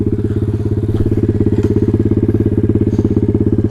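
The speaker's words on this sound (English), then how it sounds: "let's check out this motor. Honda 120." A Honda GX120 single-cylinder engine on a pit bike idles close by, loud and steady, its rapid even pulsing putter continuing alone throughout.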